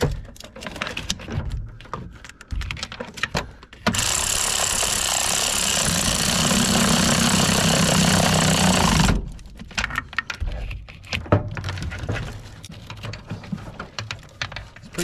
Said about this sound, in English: Cordless ratchet.